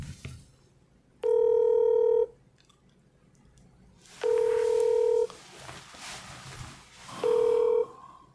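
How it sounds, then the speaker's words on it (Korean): Telephone keypad tones dialing out to connect a call: three long, loud electronic beeps spaced a few seconds apart, each ringing steadily for about a second against quiet room noise. "한번 전화 연결해 보겠습니다"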